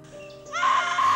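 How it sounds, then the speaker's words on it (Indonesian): A scream breaks out from inside a house, loud and sustained after a quieter opening moment. "Sampai tiba-tiba terdengar suara teriakan dari dalam rumah."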